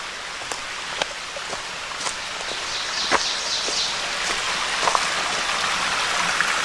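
Water from a mountain stream flowing down into the glens of Ricketts Glen State Park, Pennsylvania, makes a continuous hiss, broken by sharp nearby drips and a few light rustles or footsteps.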